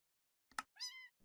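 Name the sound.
cat meow sound effect clicking saved search in Hypixel Skyblock video game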